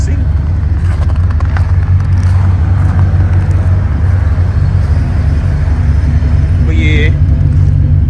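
A cammed Chevrolet Impala SS rumbles steadily in low gear while driving through snow, its deep engine drone constant throughout, with someone briefly talking over it near the end.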